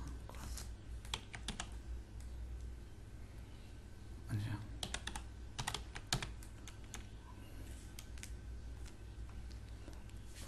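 Keys on a computer keyboard click in irregular bursts of quick taps with short pauses between, close and fairly quiet, while a voice murmurs faintly in the background.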